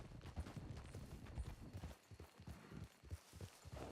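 Horse hooves clip-clop at a steady walking rhythm in a ranch roleplay video game, fairly close and continuous over a busy, noisy game soundscape.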